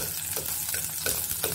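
Hot oil spattering in a pan, set off by a little water from wet hands, while cooking a Malvani-style tarli fish curry; a steady close sizzle with scattered sharp crackles, no voices.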